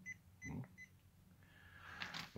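A WinAPEX touch-sensing multimeter on continuity test against a charger cable gives a few short, faint electronic beeps, then a longer, steadier tone, all set against light room noise.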